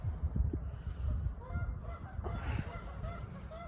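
Geese honk and squabble in a noisy, continuous jumble of harsh calls, with some birds closer and others farther off.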